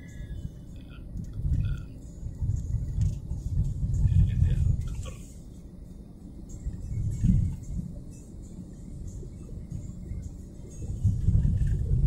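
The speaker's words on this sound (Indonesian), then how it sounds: "Lalu lintas kendaraan di sini ini cukup" Road traffic passes on a street near the district office in Jelimpo, Landak, West Kalimantan, with broad low rumbling swells as vehicles go by, rising and fading several times over steady background noise.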